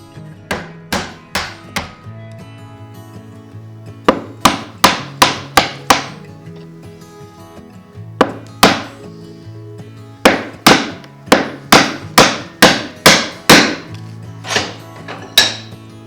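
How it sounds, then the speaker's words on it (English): A chisel is struck repeatedly to chop waste from wooden joinery for a Japanese-style bookshelf, giving loud, sharp close knocks in quick bursts of four to six, with short pauses between groups. "I drill as much waste away as possible and then chop the rest with a chisel."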